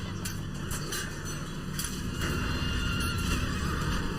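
Horse neighing in a strategy video game: a loud whinny cuts through steady clip-clopping hooves and background game noise, heard up close and alone without talk.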